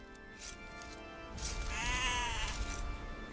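A sheep bleats once in the video game Age of Empires II: Definitive Edition, a wavering drawn-out call over a steady synthetic hum and tonal backdrop.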